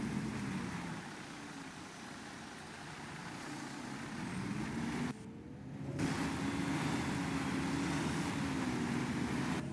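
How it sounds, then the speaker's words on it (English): Bus cooling fan running steadily in the OMSI 2 bus simulator, a constant loud whirring hum over low engine drone, briefly dipping for a second midway before resuming, with no talking. "I do always get the cooling fan going on this"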